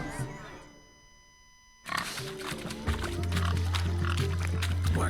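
Pigs oink and squeal during a pig race in The Witcher 3: Hearts of Stone, with snorting grunts over a busy game soundscape and a low continuous hum after a quiet opening.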